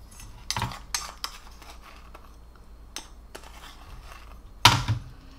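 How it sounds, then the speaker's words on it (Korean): A spoonful of dried red beans goes into a small infusion pouch, giving a few scattered, quiet clinks and rattles with soft handling noises in between and one sharper clatter near the end. "여기다가 우림주머니에다 팥 한 스푼을 넣어주시고"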